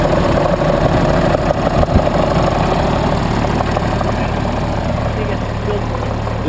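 A dump truck with a leaking transmission idles close by, its engine a loud, steady diesel rumble with a constant low throb that holds unchanged throughout.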